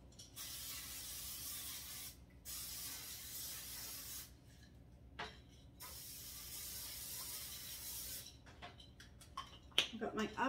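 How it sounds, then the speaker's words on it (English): Several bursts of hissing cooking spray from an aerosol can onto baking pans, short and long, with brief pauses and some handling clatter near the end. "I just have to spray them with the cooking spray."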